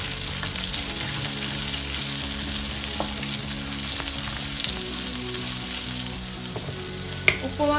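Chopped onion sizzles steadily in hot oil for semiya-rava upma, a continuous close frying hiss with a few faint scrapes of stirring and a small clink near the end; no one speaks.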